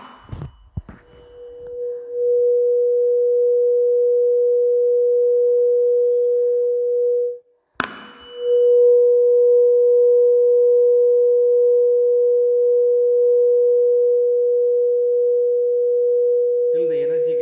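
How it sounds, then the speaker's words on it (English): 480 Hz tuning fork ringing with a pure, steady tone after being struck, briefly cut off by a sharp knock and then struck again to ring on evenly, with a faint voice at the start. "then only you are able to hear the 480 Hertz sound from the tuning fork."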